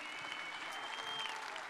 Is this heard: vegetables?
no